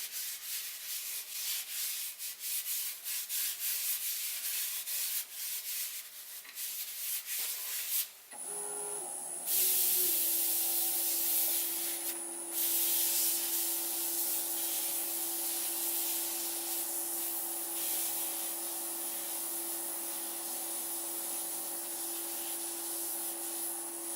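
A Milliput bowl is polished with Yorkshire Grit abrasive paste, a steady rubbing hiss that shifts after a pause into a louder, smoother whirring buff with a sustained tone.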